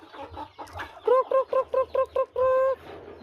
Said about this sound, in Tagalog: Yan, dami nating mga alagang manok.